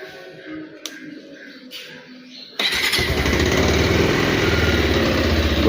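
A motorcycle is started after a few quiet clicks and then settles into a steady, close, loud idle with a low throbbing rumble running to the end.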